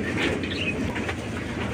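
Pet pigeons shuffle and coo, giving soft murmuring calls and light fluttering movement at close range over a steady low background rumble.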